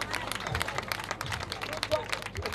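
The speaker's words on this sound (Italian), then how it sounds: "Date un applauso alla forza di ordine" A crowd at a street memorial in Civitanova Marche applauds the police, with dense, steady clapping that runs throughout and voices mixed into the noise.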